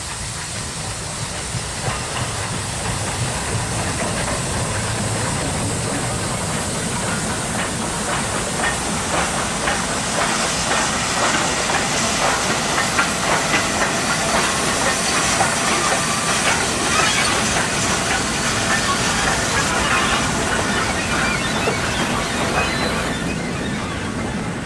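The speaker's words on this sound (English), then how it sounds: "a heavy Stanlow oil train approach with 2 9Fs" A heavy Stanlow oil train on the Warrington line at Edgeley, Stockport, hauled by two 9F steam locomotives, rolls past loudly with a continuous roar, steam hiss and a steady clickety-clack of wagons that builds and holds throughout.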